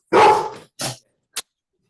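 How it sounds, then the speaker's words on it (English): Dogs at the door bark at arriving people, three barks close by, one long bark followed by two shorter ones, with brief silence between. "my dogs are trying to kill the people coming to the door"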